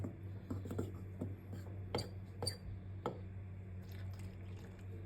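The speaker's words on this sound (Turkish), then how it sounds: "ilave ettikten sonra arkadaşlar şöyle bir güzel unumuzu karıştıralım" Flour and salt are stirred together in a bowl while making hand-rolled nettle börek dough: quiet scraping and a few sharp clinks against the bowl over a low steady hum.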